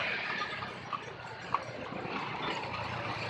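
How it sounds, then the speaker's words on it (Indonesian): Horse hooves clip-clop on pavement as a delman cart is pulled through Cibadak, a few distinct hoof strikes standing out over steady street and traffic noise. "Ayo, Dede jadi naik kuda."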